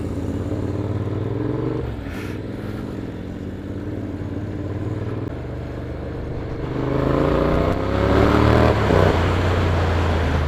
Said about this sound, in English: My exhaust is off. I thought it sounded louder.